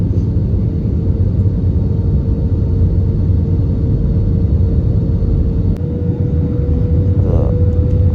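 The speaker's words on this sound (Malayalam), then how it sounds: "ഫ്ലൈറ്റ് ഇതാ മുന്നോട്ട് ഇറങ്ങാൻ പോവുകയാണ്" Steady, loud low-frequency engine rumble inside an aircraft cabin as the plane descends to land at Calicut airport, a constant drone with a faint tonal hum throughout.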